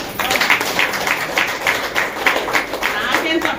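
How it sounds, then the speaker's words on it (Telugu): An audience claps together in a steady rhythmic beat for several seconds, fairly close and continuous, with voices mixed in. "నాకేం చప్పట్లు కొడతారు."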